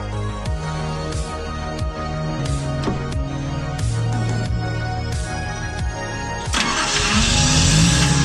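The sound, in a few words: Datsun 280ZX car engine starting and idling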